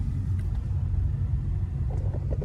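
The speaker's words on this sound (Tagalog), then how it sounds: "Davao City, sobrang traffic na." Steady low rumble of city traffic in Davao City, with car engines droning continuously at close to middle distance and no voices over it.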